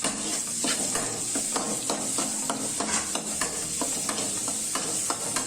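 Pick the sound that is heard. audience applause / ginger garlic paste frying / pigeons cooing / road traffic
ginger garlic paste frying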